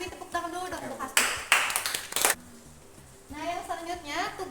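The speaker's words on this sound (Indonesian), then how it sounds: "Tepuk tangan dulu dong untuk Hasdi." A classroom claps for a student after a chemistry presentation on argentometric titration, a brief burst of hand claps lasting about a second, set between stretches of a teacher talking.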